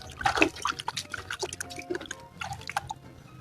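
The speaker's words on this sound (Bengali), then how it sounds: "মাথায় জল ঢেলে নি চলো" Cold water poured and dripping during a late-night bath, splashing and trickling in uneven bursts close to the listener, with no talking.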